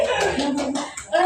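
Hands clap in a classroom clapping game of elbow, shoulder and hand pats, a few quick claps close by under an adult voice leading the chant.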